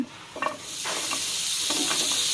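Pineapple cooking with a little water in a pan builds into a steady close hiss and bubbling sizzle, with a few soft stirring scrapes early on and no voices.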